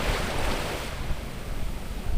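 Sea waves wash onto the beach at a resort in San Juan, Batangas, a continuous rushing surf with wind buffeting the microphone, loud and close with no voices.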